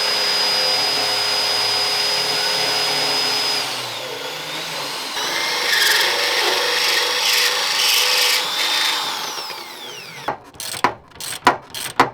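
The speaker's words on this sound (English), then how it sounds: "Time to just get filing." A rubber body mount is filed during a V8 Land Rover Discovery build. A loud, steady mechanical whine and grinding dominate at first, then several sharp, separate rasping strokes come near the end.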